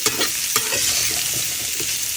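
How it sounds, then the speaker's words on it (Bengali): Papaya frying in hot oil with a chili and mustard seed tempering, giving a steady close sizzle with scraping stirs throughout. "এখানে আমি পেঁপে ভাজা করে নেব আর পেঁপের ভাজার মধ্যে ফোড়ন দিয়েছি লঙ্কা আর সর্ষে"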